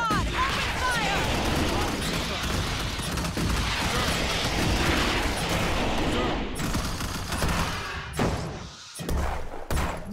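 Sustained gunfire from Starship Troopers: Terran Command, dense overlapping rapid shots and thuds forming a loud continuous fusillade, thinning into a few separate bursts toward the end, with voices barking orders in the mix.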